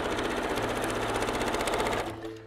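A sewing machine runs fast and steadily as it stitches quilting lines across a small fabric pouch, a close, even mechanical whir that slows and stops near the end.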